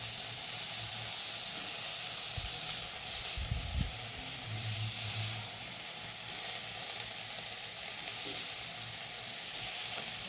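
Cauliflower pieces and chopped boiled potatoes fry in a pan for cauliflower samosa filling, giving a steady close sizzle and hiss throughout with a few soft stirring scrapes and no talk.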